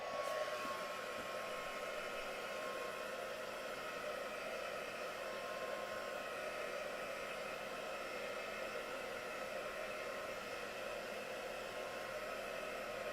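A heat gun blows steadily for the whole stretch while drying a craft piece, a constant, even rush of hot air held close and loud, with no talking over it.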